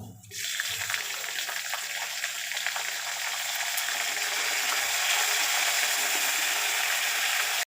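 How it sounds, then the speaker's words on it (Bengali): Boiled radish pieces drop into hot oil with dried and green chillies, setting off an abrupt, loud sizzle that holds as a steady, close hiss throughout. "এবার আমি সেদ্ধ করা মূলোগুলো তেলের মধ্যে ছেড়ে দিচ্ছি"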